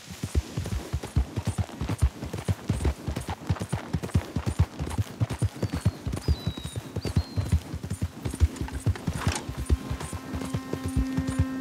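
Steady rapid clip-clop of horse hooves in the Red Dead Redemption 2 video game, a galloping rhythm running continuously and fairly close, with no talk over it.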